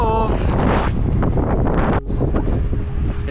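Strong wind roars and buffets directly into the microphone of a cyclist riding uphill near water, with loud continuous rumbling gusts and a brief drop in the middle.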